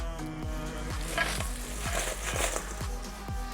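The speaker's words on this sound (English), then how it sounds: "You're gonna hear when they hit the bowl" Freshly fried potato french fries dropped from hot oil into a bowl, sizzling and crackling steadily with a series of soft, regular thumps as they are shaken and tossed, close and fairly quiet with no talking.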